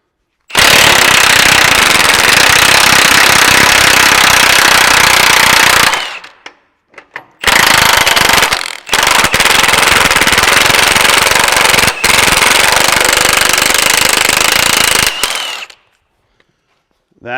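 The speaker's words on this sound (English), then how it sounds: "I'm gonna come in here and remove the track bar bolt" A loud, rapid impact tool hammers in long bursts with short gaps while removing the track bar bolt on a lifted 80-series Land Cruiser, close and harsh.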